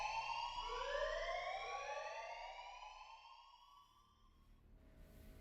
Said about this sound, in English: A loud alarm abruptly brings me back to reality from my dream.